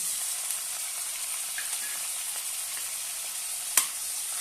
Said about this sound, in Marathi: आणि छान त्याची तेलामध्ये परतून घेऊया